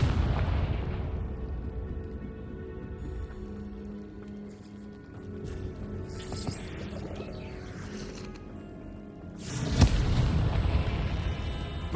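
Confringo spell blasts in Hogwarts Legacy, heard as booming explosions under game music: a burst at the start, a rumbling middle stretch, then a loud second blast late in the clip.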